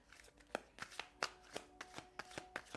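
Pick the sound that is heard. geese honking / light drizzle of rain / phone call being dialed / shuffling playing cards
shuffling playing cards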